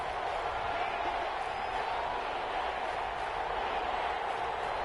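A stadium crowd roars steadily in a football video game, a dense, continuous wash of cheering and noise that holds at an even level throughout, with no individual voices standing out.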